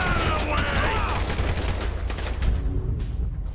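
Dense gunfire in the video game Grand Theft Auto V rattles continuously and loudly as a mix of overlapping shots, thinning slightly toward the end.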